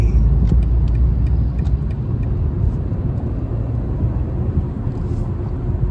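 Steady low car rumble from inside a vehicle creeping through heavy commuter traffic, a continuous engine and road drone with faint clicks, no voices.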